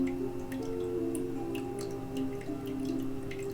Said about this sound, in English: trying to catch all the drops of water